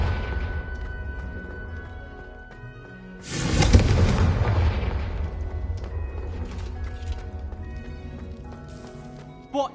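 A Confringo spell explosion from a video game bursts midway as a sudden loud, broad boom. It rumbles and fades over several seconds against a low mechanical background, with a short sharp sound at the end.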